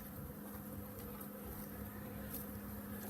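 Honey bees, newly installed Saskatraz package bees, swarming around a hive, giving a steady, dense buzzing drone that holds evenly throughout without pause.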